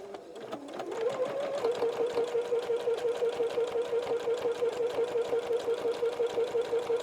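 A sewing machine stitches a fabric corner bookmark, running at a steady, fast, even rhythm after a brief start, close and loud with no talking.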